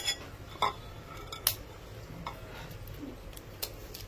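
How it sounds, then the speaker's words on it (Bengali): A fork beats two eggs in a bowl, giving light, irregular metallic clinks and ticks against a quiet kitchen background, with no talking. "এখানে ডিম আমি ফেটিয়ে নিচ্ছি, 2টো ডিম নিয়েছি"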